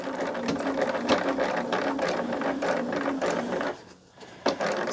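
A sewing machine runs steadily through a thick bag seam at a quarter-inch allowance, its needle clattering in a fast rhythm close by, briefly easing off near the end before a final few stitches.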